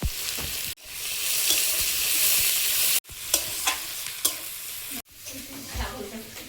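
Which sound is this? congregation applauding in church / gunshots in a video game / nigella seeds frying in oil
nigella seeds frying in oil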